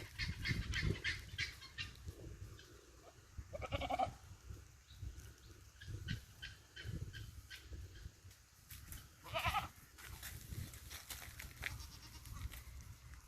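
Repeated goat bleats and calls at close range over a rustling outdoor farmyard background, with bursts of louder bleating.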